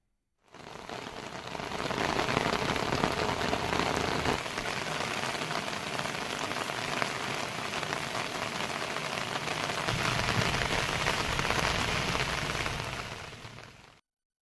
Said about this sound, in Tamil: நள்ளிரவில் அரை மணி நேரத்திற்கு மேலாக மிதமான மழை பெய்தது